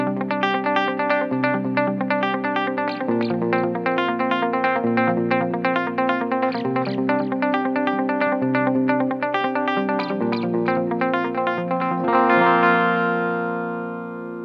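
Electric guitar run through a Line 6 HX Effects dotted eighth delay, a steady picked pattern with repeating echoes trailing each note for about fourteen seconds, ending on a ringing chord, with no talk.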